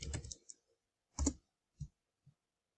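A few separate keyboard taps or clicks on a computer keyboard, typing in a quiet room, a short burst at the start followed by three spaced, fading strokes.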